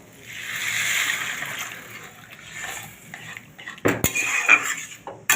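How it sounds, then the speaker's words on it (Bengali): Chana dal and water go into a cooking pot: metal pot and utensil clatter, a soft pour and splash, then sharper clinks near the end, close and fairly quiet. "ছোলার ডালটা এবার দিয়ে দিচ্ছি পরিমাণ মতো জল।"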